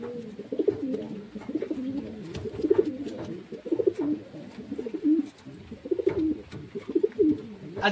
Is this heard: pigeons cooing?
yes